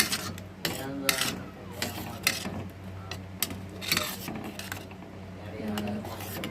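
A spoon scrapes and stirs sago and jaggery payasam in a pot, giving irregular scraping strokes with soft clinks, while someone talks over the stirring throughout.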